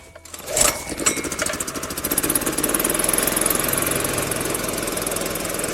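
Gasoline generator engine cranking and catching in cold Siberian taiga conditions, then settling into a steady, loud, chugging run, close by with no talk.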